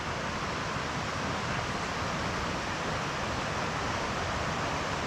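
A river in Linville Gorge rushes past a campsite with a steady, even roar of broadband water noise that neither swells nor fades, constant and fairly close with no voices.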